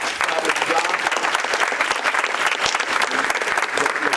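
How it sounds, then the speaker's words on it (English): At a people's assembly in Newark's Lombardi Center, a room full of people applauds a facilitator, a thick, even roar of clapping that continues without a break from start to finish. "And Andrea, I'm going to give her a round of applause"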